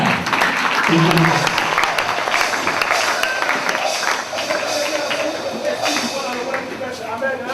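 A church congregation applauds and cheers for the Lord, with dense, sustained clapping and crowd voices filling the room, loud throughout and overlapping with talk.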